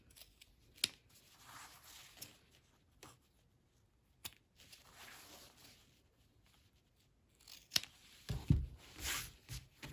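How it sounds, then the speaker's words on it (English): Scissors snip at the corners of a fabric face mask, a few sharp, separate cuts spaced through quiet stretches, with some soft handling and rustling near the end. "Cut a triangle of fabric off in the corner like this"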